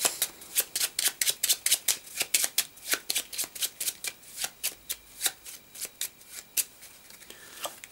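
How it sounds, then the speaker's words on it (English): A deck of playing cards is riffle-shuffled again and again, a rapid run of crisp flutters and snaps in a steady rhythm, close and distinct, with no one speaking. "And I'm going to shuffle."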